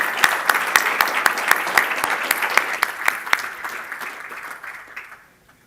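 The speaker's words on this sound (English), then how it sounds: "Please give a round of applause to James and our discussants" An audience at a central bank's annual economics conference applauds a speaker and discussants, sustained even clapping with sharp individual claps that gradually fades out to near silence.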